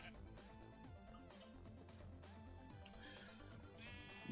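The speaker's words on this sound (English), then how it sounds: "We have some sheep spawning everywhere." Sheep bleat in Minecraft's Agrarian Skies modpack, several overlapping game-sound bleats sounding over background music with tonal, layered cries rising and falling throughout.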